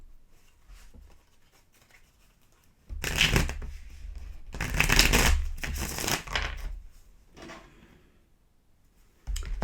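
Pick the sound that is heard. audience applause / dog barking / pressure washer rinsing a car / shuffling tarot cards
shuffling tarot cards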